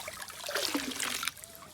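Water trickles and splashes from a hose pipe being filled into a bucket to wash a vehicle outdoors, a steady nearby spatter lasting under two seconds with no talking.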